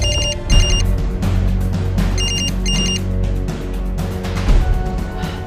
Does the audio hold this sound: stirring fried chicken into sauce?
no